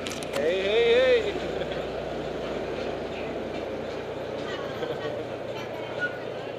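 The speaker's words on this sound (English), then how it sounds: "it's our turn to get on the train" A passenger train rolls steadily along, its continuous rumble and clatter heard from close by with a voice briefly speaking over it early on.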